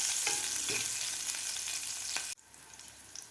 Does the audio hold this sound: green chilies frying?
yes